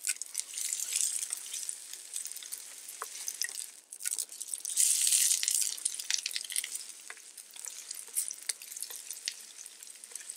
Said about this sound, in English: half of a small minced onion. So that goes right into the oil.